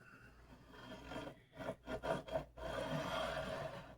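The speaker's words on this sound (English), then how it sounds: "Our beveling file is going to start this off" A beveling file rasps up and down a Squier bass neck, taking overhanging fret ends off flush with the fretboard: a steady scraping texture, broken by a few distinct strokes in the middle, close and moderately loud.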